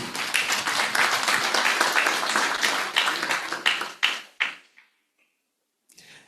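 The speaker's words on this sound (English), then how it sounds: "Please welcome Professor Wang and also Dr. Wei. Give applause." Lecture audience applauding as two guest professors are welcomed, a loud dense clapping that fades out with a few trailing claps before near silence.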